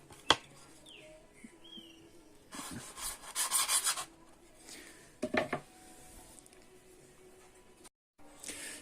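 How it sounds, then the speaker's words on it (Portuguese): Hand sanding on an Eagle violin body during a varnish change, with a rough, rasping rub that comes in separate bursts, the longest and loudest in the middle, broken by short pauses and a few knocks. "Por isso ele vai ser lixado nessa direção."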